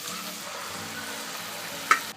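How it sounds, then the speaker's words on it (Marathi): Quiet sizzling in a pan as brinjal and pressure-cooked dal are stirred, with a single sharp clink of a utensil near the end. "आता हे वांग आणि डाळ घालायची"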